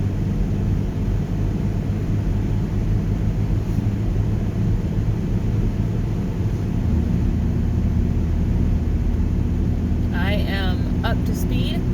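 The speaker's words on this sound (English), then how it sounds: "It's driving really smoothly down the road." A 2005 Volvo V50 cruises along a road at about 60 mph, giving a steady, continuous rumble of engine and road noise throughout, with a brief higher whine near the end.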